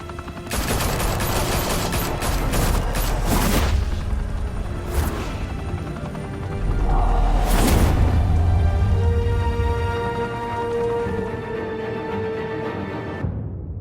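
Gunfire in the Batman Telltale Series video game: a loud, sustained barrage of rapid shots, with heavier booming blasts and crashes mixed in, running almost without a break.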